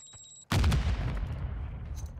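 Incoming gunfire in a game erupts as a sudden loud blast of rapid overlapping shots and booms, with a rumbling tail continuing after the initial burst.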